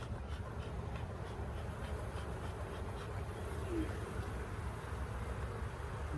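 Honey bees buzzing around an opened hive during a quick check for swarm cells, a steady dense drone that is close and continuous throughout.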